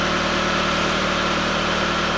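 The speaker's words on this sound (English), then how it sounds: "You hear the engine's laboring a little bit as we've opened up the EGR valve" A car engine runs steadily and a little labored with its EGR valve commanded about 17% open, a continuous close idle-like drone with low vibration and no talk.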